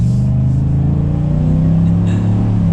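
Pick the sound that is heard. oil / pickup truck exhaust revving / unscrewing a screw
pickup truck exhaust revving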